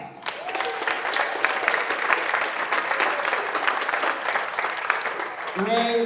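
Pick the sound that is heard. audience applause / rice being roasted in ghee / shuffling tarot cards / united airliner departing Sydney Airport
audience applause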